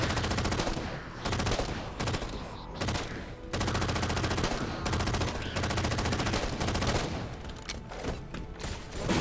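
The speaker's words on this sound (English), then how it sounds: "The gun runs out of ammo right when I need to keep firing." Dense, sustained gunfire and explosions in the Halo 4 shooter, loud, continuous volleys with brief dips, a near-constant battle din.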